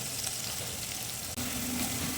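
Onions frying in oil for nombu kanji, a continuous close hiss of sizzling with a brief dropout in the middle and no voices.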